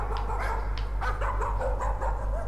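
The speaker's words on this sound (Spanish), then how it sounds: "Un perro. Ladridos." A dog barks repeatedly in the horror video game Layers of Fear, a series of sharp yaps in steady rhythm over a constant low droning hum.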